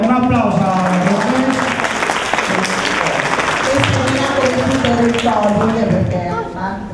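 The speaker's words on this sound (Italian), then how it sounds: "e un applauso alla professoressa" Applause for a teacher at a school orientation event in Vasto, steady crowd clapping with a voice speaking loudly over it throughout.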